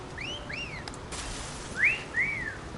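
A short whistle call in Final Fantasy XVI summoning a chocobo: two rising-falling whistled chirps, then two louder, sharper ones about a second later, over a low steady game background.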